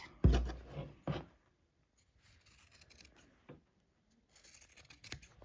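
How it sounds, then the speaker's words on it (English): Scissors snip through fabric, trimming a quarter-inch seam allowance around a sewn placemat: two crisp close cuts at the start, then quieter sliding snips and scrapes spread over the rest, with pauses between. "we're just cutting, trimming a 1/4 inch all the way around"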